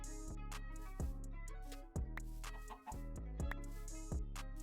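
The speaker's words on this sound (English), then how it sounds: "Thanks for the free egg chicken." Chickens cluck in a crafting video game, a repeated pattern of short, sharp bursts with loud, abrupt clucks recurring about once a second, close and clear, with no talking.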